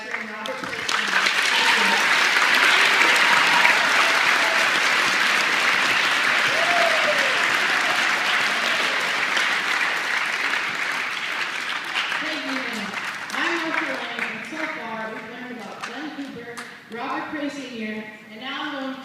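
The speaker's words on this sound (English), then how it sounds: "One more round of applause for our veteran, Robert Kurth." Audience at a Groton Veterans Day program applauds for a veteran, a loud sustained wave of clapping that slowly thins, with a voice starting to speak near the end.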